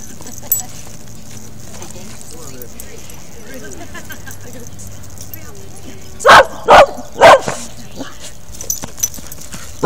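Four sharp dog barks ring out in quick succession over quiet outdoor ambience at a dog park, with one more bark cut off at the very end.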